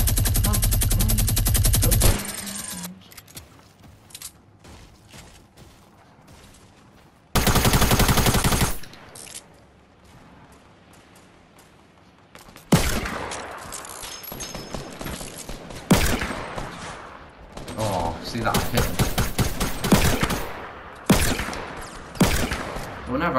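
A minigun fires in Fortnite in long bursts of rapid automatic gunfire, separated by quieter gaps. Several loud sustained volleys come in the first half, and denser, choppier firing follows later on.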